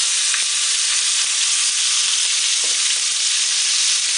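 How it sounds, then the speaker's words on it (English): Pork chops still wet from washing sizzle steadily in a pan of hot olive oil, a loud continuous hiss with faint crackles and pops throughout, no voices. "There's still water on it, which is why it's sizzling like that."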